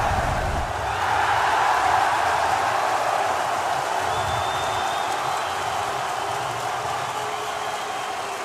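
Arena crowd roaring and cheering at the Six Invitational 2024 esports finals, a broad, sustained wall of noise that peaks early and then slowly fades, with no commentary over it.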